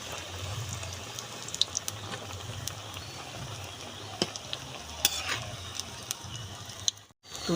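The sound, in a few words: pakoras (onion fritters) frying in oil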